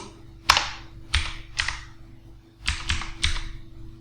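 Sparse keystrokes on a computer keyboard click close by in two short bursts, a few separate taps, then a pause and a quick run of three, over a faint steady electronic hum.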